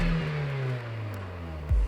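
A car engine revs and winds down, its pitch sliding lower, then a short sharp burst of revving near the end, close and fairly loud.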